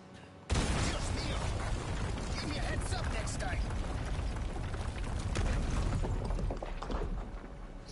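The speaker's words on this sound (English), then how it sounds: "It's like a shitload of boulders coming by after the explosion." An explosion bursts in Resident Evil 4 Remake, followed by a long rumbling roar of boulders crashing and rolling, loud and dense throughout with game voices mixed in.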